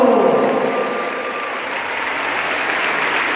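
Audience applause fills the stands at the opening of a Galician artistic roller skating championship, a steady dense wash of clapping that starts strongest and holds through the clip with a faint tonal hum underneath.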